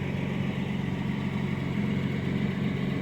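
A steady, low engine idle from a 2005–2015 second-generation Toyota Tacoma pickup with factory exhaust rumbles continuously at close range, even and unbroken with no voices.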